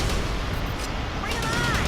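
Gunfire in the video game Battalion Wars, a dense burst of shots and explosive blasts mixed with battlefield rumble, loud and close throughout, with voices shouting over it.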